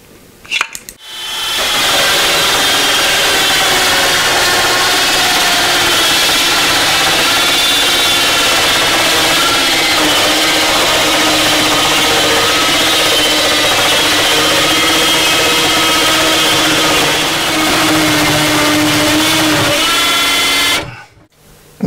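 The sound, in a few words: power saw cutting wood along a guide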